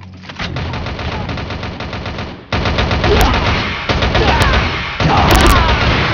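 Rapid, loud gunfire from the Rival Fire mobile shooter game, dense bursts of shots running almost continuously with brief gaps, up close and alone without talk.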